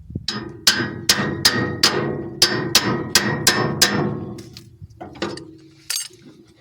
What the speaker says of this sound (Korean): 그렇지만 혹시나 모르니까 꽉 조아서 이 망치로 이렇게